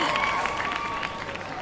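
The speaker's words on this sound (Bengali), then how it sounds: "অগ্নির জন্য জোরে হাততালি হয়ে যাক, ফাটাফাটি" Audience applause and cheering for a performer named Agni at the close of a Valentine's Day special stage show, a steady dense wash of clapping from a crowd that holds evenly throughout.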